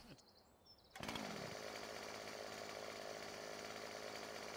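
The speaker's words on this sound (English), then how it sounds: "Chainsaw started, and see if we can't go across here and cut ourselves some logs about 7 meters in length" A chainsaw in the Farming Simulator 17 game starts abruptly after a moment of quiet and then runs at a loud, steady roar while cutting logs.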